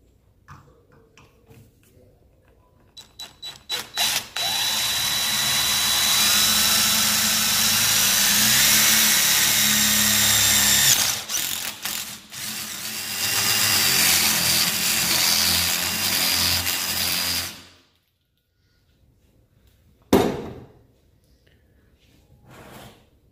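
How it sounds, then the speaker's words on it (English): A power drill bores a large hole in copper refrigerant pipe, starting with short bursts and then running in a long, loud, grinding whine that pauses briefly, resumes, and stops, followed by a brief final burst. "I'm gonna make a pretty massive hole in this copper pipe and see if I can seal it up."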